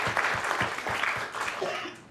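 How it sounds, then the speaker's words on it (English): Applause from an audience at a scholarship reception, a steady wash of clapping lasting about two seconds and tapering off toward the end. "How about a round of applause for"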